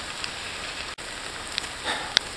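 Steady rain falling outdoors around a person standing out in it, a soft continuous patter with a few sharper drop ticks close by, moderately quiet and with no talking.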